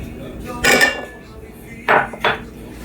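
A spoon scrapes and clinks against a bowl while melted butter is mixed into ground corn for green corn tamales, three short bursts of clatter separated by quiet pauses.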